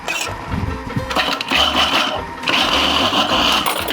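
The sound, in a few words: electric mixer running for cake batter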